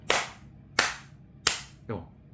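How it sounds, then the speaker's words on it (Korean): Four sharp, separate hand claps in a quiet room, evenly spaced and close, the last one softer and duller than the others. "박수 소리를 듣는"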